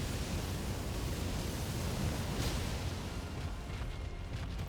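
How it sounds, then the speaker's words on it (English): An explosion in the video game Elden Ring lands as a loud, sustained broadband roar of rumbling blast noise that fills the whole stretch without pause. "Ooh, bigger explosion."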